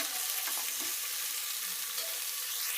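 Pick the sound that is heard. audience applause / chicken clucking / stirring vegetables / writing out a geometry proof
stirring vegetables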